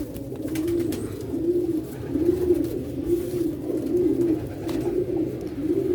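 Pigeons coo in a soft, repeating rolling rhythm, several throaty calls close by over a low background murmur, with no speech.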